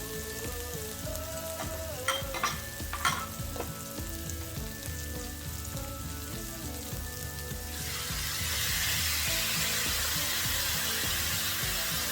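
Kimchi goes into a pan with tofu for a vegan stir-fry, and a soft sizzle under faint tonal background sounds swells into a louder, denser frying hiss partway through.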